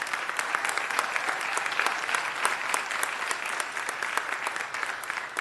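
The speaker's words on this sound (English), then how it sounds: "that also deserves a huge round of applause" A room of attendees at a Los Angeles City Council meeting claps for the council president, a steady, sustained round of applause with crisp individual claps, moderately loud and unbroken throughout.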